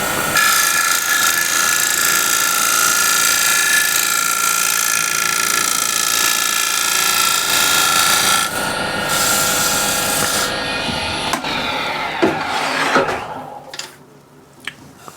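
A standard scraper works the inside of a wooden bowl spinning on a lathe, making a loud, steady, continuous rasping hiss that eases off and breaks into scattered scrapes and knocks near the end.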